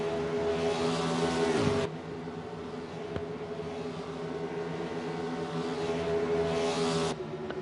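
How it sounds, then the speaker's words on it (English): Racing car engines in a racing video game at Daytona whine past at high revs, one sweeping by early and another building near the end, with a steady engine drone throughout. "There's a lot of fast cars we'll hear this evening."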